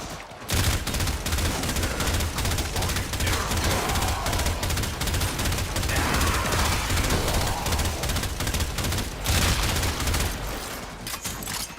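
Continuous rapid weapon fire in a video game, dense overlapping shots and bursts running loud and unbroken for about eleven seconds before easing off near the end.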